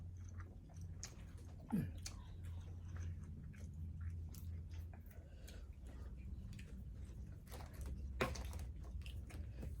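Someone chewing a mouthful of rice close by at a quiet, steady pace, with soft wet mastication sounds and a couple of sharper clicks, with no talk.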